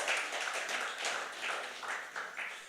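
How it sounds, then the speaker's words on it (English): Audience at a farmers' appreciation and awards ceremony applauding a saxophonist, a moderate, continuous patter of hand claps from a crowd, slightly distant, with no talk. "Give him a round of applause, please."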